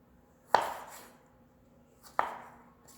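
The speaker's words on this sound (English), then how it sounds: "if your knife is sharp enough, just go down. Doesn't have to be perfect. This is kind of a rough chop" Knife rough-chopping tomatoes for pico de gallo: two sharp, close chops about a second and a half apart, each hitting the cutting board with a crisp thud that fades quickly.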